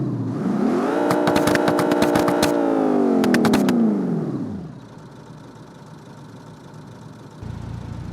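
A BMW M3 F80 engine in the driving game BeamNG.drive revs up and winds back down with a rising and falling tone, broken by sharp clicking bursts, before settling into a quiet, low idle.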